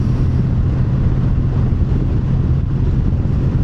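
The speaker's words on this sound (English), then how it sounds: "actually I have one in my pocket to capture just the engine sound" Kawasaki W800 motorcycle engine heard while riding, a steady low rumble with wind noise running continuously, close and unbroken, with no talking.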